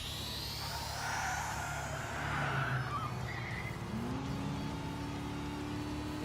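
An engine sound effect from the game Trails Through Daybreak: a turbocharged engine revs up in a steady rising drone, and a higher whine climbs out of it near the end, alone and fairly loud.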